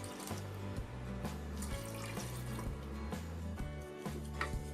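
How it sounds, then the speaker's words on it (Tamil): Water pours and splashes into a pot of mutton kuzhambu in an uneven, gurgling stream, close by, with no talking. "அது கூடவே மட்டனை வேக வைக்கிறதுக்கு தேவையான அளவுக்கு தண்ணியும் ஊற்றிடலாம்."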